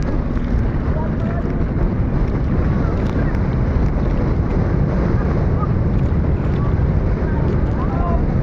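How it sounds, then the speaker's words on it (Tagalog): Constant heavy monsoon wind buffets the microphone over a churning sea with growing waves, a dense roaring rumble with no pause throughout. "lalong lumalaki ang alon. Lalong lumalakas ang hangin"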